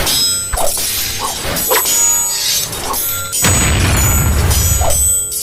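Energy blasts in an intense fantasy fight: loud shattering cracks and booming impacts crowd together, with whooshing bursts and a heavy rumbling blast near the end, continuous and close with no speech.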